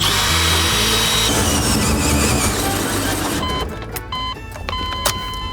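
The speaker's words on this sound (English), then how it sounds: "So I'm just gonna take this hole saw and drill a big old hole." A power drill spins a hole saw into an RV battery installation, giving a loud, steady grinding whine that changes pitch near the end and is then broken by brief clicks and stops.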